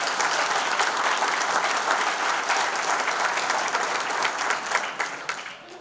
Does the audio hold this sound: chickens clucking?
no